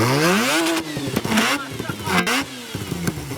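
Mazda 13B rotary engine, a bridge-ported S13B build, revving hard to 10,000 RPM, rising in a loud ragged wail with repeated climbs and drops between throttle blips, close up and continuous.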